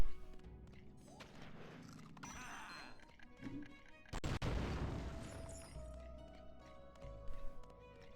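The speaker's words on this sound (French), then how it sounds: "Ah non, c'est une bombe." A bomb goes off in Skylanders Giants, played on the Dolphin emulator, giving one sharp, booming burst midway through, surrounded by fainter game effects and music.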